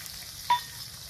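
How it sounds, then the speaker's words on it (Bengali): A spice paste of ground green, ripe and dried chillies with turmeric frying in a pan, heard as a low sizzle with one short scrape or stir about halfway through. "মশলা কষানো হয়ে গেছে"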